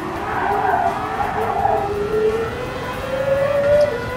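Gran Turismo 7 Daytona Prototype Gr-1 race car braking, a loud engine note sliding downward with a rising tire squeal, close and sustained with no talk.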